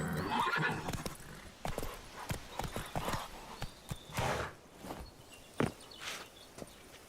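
Roach, the horse in The Witcher 3, moves with a rhythmic clip-clop of hooves, a neigh, and snorting breaths, fairly close and clear with no talk over it.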